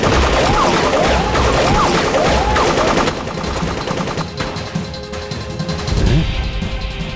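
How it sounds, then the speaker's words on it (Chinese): Heavy gunfire erupts in a kung fu martial arts film scene, a loud dense fusillade of rapid shots. It thins into scattered cracks and clatter in the second half. "鹏飞那边怎么开枪了？"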